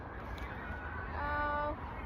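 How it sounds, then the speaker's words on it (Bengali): Ducks with their ducklings, watched from a short distance, give a short honking call lasting about half a second over a steady outdoor background. "দেখেন কতগুলি হাঁস এখানে, এবং হাঁসের বাচ্চাগুলি দেখেন"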